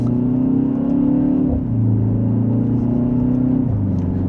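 A 2025 BMW X1 M35i accelerates in sport mode from second gear, its engine droning loud and close with a rising pitch that drops twice at gear shifts, heard from inside the cabin with no talk.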